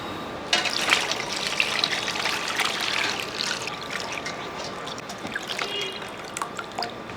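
Water from washing bottle gourd drains off in a steady trickling, splashing stream that runs continuously at close range, with no voices.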